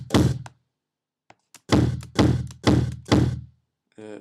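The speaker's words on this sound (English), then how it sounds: "you can clearly hear the kick drum there" Kick drum sample carrying some mic spill, struck as one hit, then two faint taps, then four loud evenly spaced thumps with a short tail, and a brief buzzy fragment at the end.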